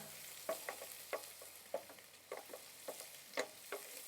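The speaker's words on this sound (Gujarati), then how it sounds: "ઢોસાનો જે મસાલો હોય એ રાઈ નાખી દઈએ સૌપ્રથમ, થોડું જીરું, થોડી હિંગ, લીમડો, થોડી ડુંગળી અને મરચાં." Mustard seeds, cumin, asafoetida, curry leaves, onion and chillies frying in oil for dosa masala, a soft steady sizzle broken by frequent small pops and crackles, close and fairly quiet.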